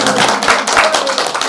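A crowd of men and women at a religious gathering claps loudly and continuously, a dense close-up patter of hands with no pauses, filling the short moment.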